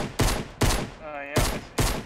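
A burst weapon fires in the video game Fortnite: four loud, close bursts of rapid shots in quick succession, with a brief voiced sound between the second and third.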